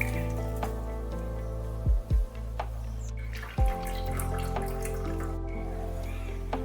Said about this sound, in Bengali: এবার আমি এখান থেকে জলটা ছেঁকে নিচ্ছি।